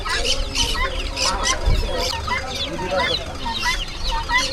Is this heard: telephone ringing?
no